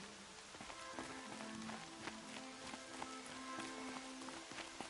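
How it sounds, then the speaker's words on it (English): Rain patters steadily in the video game Horizon Zero Dawn, a soft continuous hiss with scattered droplet taps, joined by light footsteps and faint tonal game music throughout. "Rain's not so bad."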